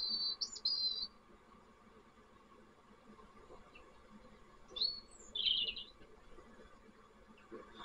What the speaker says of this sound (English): It's a prairie warbler.